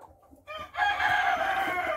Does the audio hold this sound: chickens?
yes